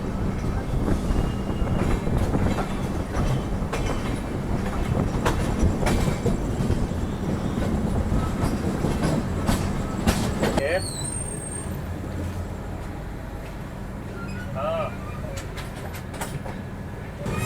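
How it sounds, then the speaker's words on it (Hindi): Trains rumble and clatter through a large junction at Jabalpur railway station, a steady, loud rolling roar of rail cars that eases after the midpoint, with brief high squeals and faint distant calls over the background. "तो बहुत बड़ा स्टेशन है जबलपुर। कितने रेलवे ट्रैक है यहाँ पे।"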